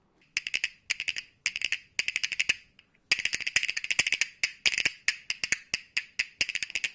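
Rapid wooden clicking from rhythm bones in bursts of quick rattling triplets, dry and close, with a short pause before a longer busy run.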